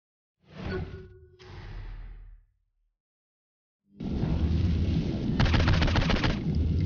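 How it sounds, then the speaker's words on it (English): Flaming-bullet gunfire in the video game Saints Row 4: two short blasts, a brief silence, then a sustained roaring barrage with a fast rattling stretch near the end, loud and without talk. "Particularly flaming bullets."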